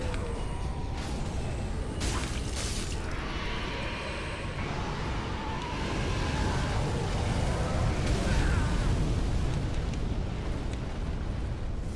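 A wyvern in Dark Souls 3 unleashes a long, loud roaring rush of fire breath, a dense broadband blast that holds steady for several seconds with swelling surges and no speech over it.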